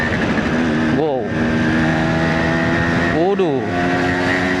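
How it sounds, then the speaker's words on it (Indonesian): A 1977 Suzuki A100 two-stroke motorcycle pulls hard in fourth gear, its buzzing engine note climbing and dipping in two clear rev sweeps, loud and close throughout. "ini saya coba tarik si Suzuki ACP nih, teman-teman. Ini gigi 4 nih."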